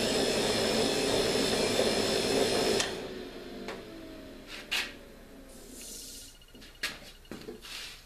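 A homemade ball mill runs loudly with a motor cooling fan for about three seconds. It then stops and leaves quieter clicks and clunks as the drum settles.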